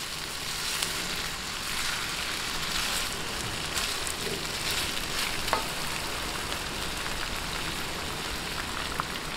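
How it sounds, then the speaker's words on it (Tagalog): Batchoy ingredients sauté in a pan with a steady, crackling sizzle that holds at an even level throughout, with faint stirring clicks and no voices. "Ayan, okay na po itong ating ginigisa."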